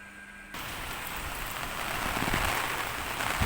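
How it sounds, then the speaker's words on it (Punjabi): Heavy rain starts abruptly and keeps drumming steadily, a thick hiss of drops on a surface that grows slightly stronger toward the end. "ਪਹਿਲਾਂ ਮੀਂਹ ਘਟ ਗਿਆ ਸੀਗਾ ਜੀ ਹੁਣ ਫੇਰ ਤੇਜ਼ ਹੋ ਗਿਆ"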